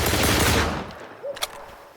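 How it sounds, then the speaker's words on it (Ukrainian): Rapid burst of rifle fire from a .308 weapon in STALKER 2, a loud sustained volley that tails off over about a second, followed by a couple of faint clicks and a brief small report. "Чотири постріла, ну йо нафіг."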